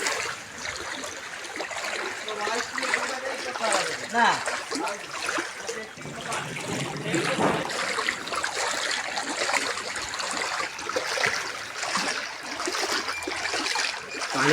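Flood water in an Odisha village, continuous splashing and trickling close by, with people talking over it throughout.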